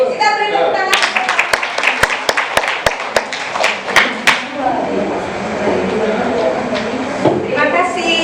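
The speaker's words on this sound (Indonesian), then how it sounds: "Kita beri tepuk tangan" Classroom group applauding: scattered clapping that tightens into a run of sharp, rhythmic unison claps before breaking into loose chatter, with voices talking throughout.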